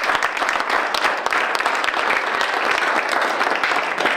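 Steady, dense applause from a school board meeting audience, sustained and even throughout without pause.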